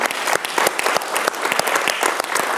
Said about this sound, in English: Je pense qu'on peut applaudir Paolo Cerchiosai.